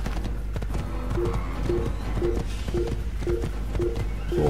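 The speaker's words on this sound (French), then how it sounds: "je montais sur mon cheval" A horse's hooves clip-clop in a steady rhythmic trot in the Assassin's Creed video game, set against a constant ambient game background.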